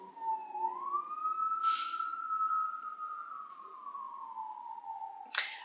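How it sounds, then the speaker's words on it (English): A single emergency siren wails steadily up and down, fairly close, with a couple of brief noisy bursts over it. "And now we have sirens."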